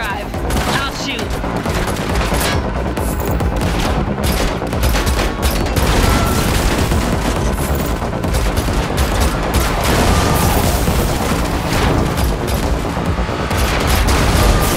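Dense, continuous gunfire from The Matrix Awakens Unreal Engine 5 driving chase, loud rapid bursts and booms layered over engine roar and game music for the whole stretch, with no speech audible.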